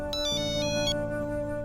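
A phone ringtone plays loudly and steadily as a melodic electronic tune over a sustained music bed in a Hindi TV drama scene, with no talking.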